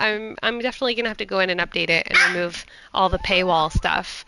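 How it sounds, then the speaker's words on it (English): A pet dog barks in quick bursts indoors, close by, mixed in with someone talking steadily over it. "Oh my gosh, I'm so sorry about my dog."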